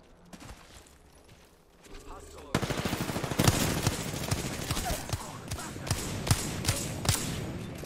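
Video game gunfire from Wingman and Peacekeeper weapons, starting as quiet scattered pops, then bursting into a rapid string of sharp shots and thuds that continues steadily, with a voice talking over the action.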